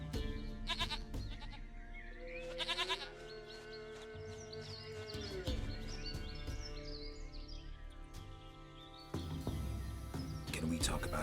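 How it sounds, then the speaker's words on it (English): Goat bleating in The Witcher 3: Wild Hunt, a couple of short wavering bleats over a steady game soundscape with faint bird chirps. "Goat of mine! Dearest, sweetest goat!"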